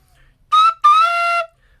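Two shrill, piercing tones from a Dixon alto G tin whistle overblown to its highest note, a brief chirp followed by a longer sustained squeal.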